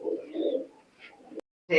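Soft, low cooing of a pair of Teddy pigeons sitting on eggs rolls in a close, murmuring phrase, breaking off briefly before another burst of cooing starts at the very end.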